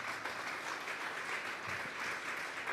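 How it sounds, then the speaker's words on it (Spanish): Steady, dense clapping from a large crowd at a Sunday church service, sustained and even throughout with no voices standing out. "Denle un fuerte aplauso pues al Señor."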